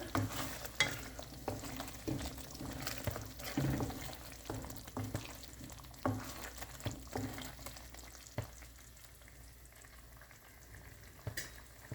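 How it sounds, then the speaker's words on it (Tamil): Egg malai curry with milk and spices simmering and sizzling in a pan, with a spoon stirring through it in repeated scraping strokes close up, the bubbling steady underneath. "இடையிடையே கொஞ்சம் ஸ்டிர் பண்ணிக்கோங்க."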